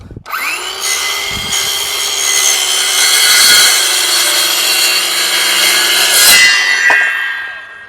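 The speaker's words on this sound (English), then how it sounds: "I got my circular saw right here, and the plan is I'm just gonna cut a little bit off, probably as much as the blade is" A circular saw whines up to speed and bites steadily through the wooden coping of a skateboard mini ramp, a loud, continuous close-up cut lasting several seconds before the blade winds down.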